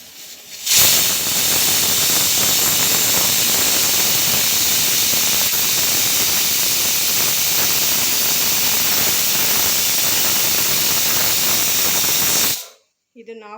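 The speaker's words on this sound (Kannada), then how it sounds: "ವಿಷಲ್ ಬರ್ತಾಯಿದೆ" A pressure cooker full of sambar vents steam through its whistle as one loud, continuous, close hiss that holds steady for about twelve seconds, then cuts off abruptly.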